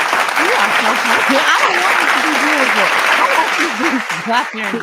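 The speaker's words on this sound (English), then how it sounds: "Let me give you a round of applause for that, Lex." Loud, sustained audience applause fills the room for a performer, with a voice talking animatedly over the clapping throughout.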